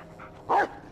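A dog in the Blair Witch video game lets out a single short, close bark against a quiet background.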